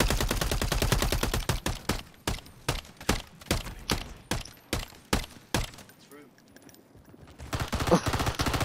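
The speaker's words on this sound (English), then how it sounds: "Why you shoot your friend?" Rapid bursts of video game gunfire in Rebirth, with a dense volley at the start, then a steady series of sharp, evenly spaced shots, a short lull, and more firing at the end.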